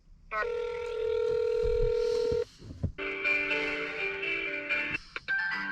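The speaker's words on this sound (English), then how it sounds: "West Marine on the phone, see what we can find here." Telephone on hold while calling a marine supply store's parts line, with steady electronic tones and hold-line sounds, a long sustained tone followed by a brighter series of tones, no talk.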